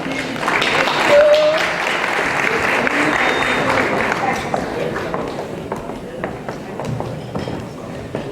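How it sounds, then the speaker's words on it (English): An audience at a development foundation event claps loudly and continuously, dense crowd applause with some cheering that tapers off gradually, while voices talk over it. "Clap your hands for me."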